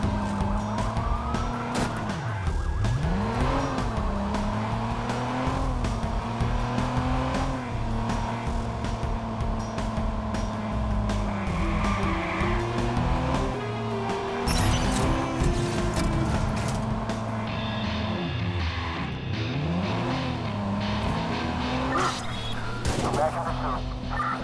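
A compact Mitsubishi-style car in the video game Watch Dogs revs and swerves, its engine pitch rising and dipping through skids. Wailing police sirens and bursts of gunfire run underneath, loud and continuous.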